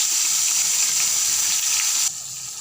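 Chopped onion and chopped tomato fry in a hot pan, giving a loud, steady hiss and sizzle that drops off slightly near the end.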